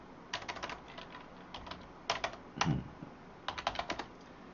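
Quiet typing on a computer keyboard comes in short bursts of quick keystrokes separated by pauses, fairly faint and close.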